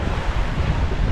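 Big ocean waves around eight feet high surge and crash against a wooden outrigger boat at sea, a loud continuous roar of water and wind buffeting the microphone.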